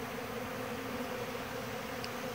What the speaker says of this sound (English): That's a lot of bees right there.